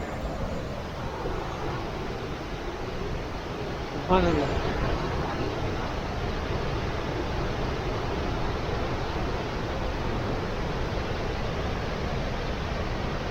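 Gullfoss waterfall in Iceland, a powerful cascade forced through a narrow rocky gap, roars as a dense, continuous broadband rush, loud and close, while someone speaks briefly over it.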